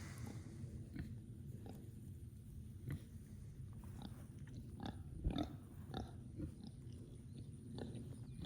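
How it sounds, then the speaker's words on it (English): Pigs in a farrowing barn, with faint scattered grunts, snuffling and chewing noises over a low steady barn hum. "up here at our farrowing barn, checking out these pigs"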